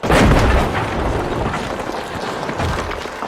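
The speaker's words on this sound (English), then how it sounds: "Frag grenade out!" A frag grenade detonates in a shooter game, a loud booming blast that opens the stretch and then trails off into a long, rumbling roar that fills the rest of the moment.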